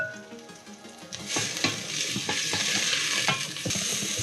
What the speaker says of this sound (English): we're just going to add the shallots into the pan with the garlic and the thyme first